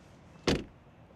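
Frameless door on a BMW iX electric SUV swinging shut in one solid, fairly close thump that fades quickly, with nothing else sounding around it.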